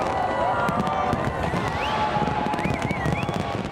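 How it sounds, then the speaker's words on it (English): Fireworks launched over Sydney Harbour from both sides of the bridge, dense crackling and popping bursts with whistling rockets rising, heard under a cheering crowd and a voice talking. "9 tonnes of fireworks launched, and for the first time ever on both sides of the bridge, a kaleidoscope of colours shimmering across the harbour"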